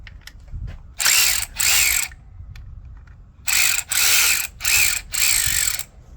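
Ratchet with a 10mm socket backing bolts out of a 2018 Toyota Corolla during spark plug work: several bursts of rapid clicking, two short and four longer, close by with quiet pauses between.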